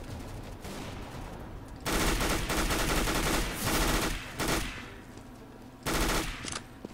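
Rapid automatic gunfire in Counter-Strike: Global Offensive, loud close bursts of rattling shots in several sustained volleys with short pauses between, nearly alone over game ambience.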